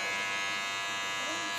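Electric clippers shaving the side of a head, a steady close buzzing hum with a voice talking over it throughout.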